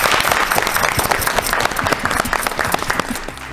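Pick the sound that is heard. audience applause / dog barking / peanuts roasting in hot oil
audience applause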